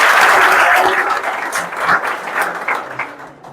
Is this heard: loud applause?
yes